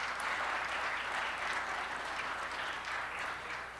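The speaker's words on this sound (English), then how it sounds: "please give them a round of applause to welcome them to Council Chambers" A council chambers audience applauds to welcome visitors at a city council meeting, a steady, moderately distant wash of clapping that holds evenly for a few seconds with no voices over it.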